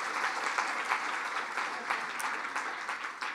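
Applause from the audience at the 2018 Media Access Awards, a sustained and even round of clapping heard at some distance and fairly quiet, with no voices over it.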